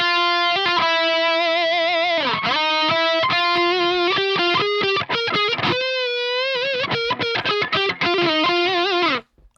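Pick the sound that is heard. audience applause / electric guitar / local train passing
electric guitar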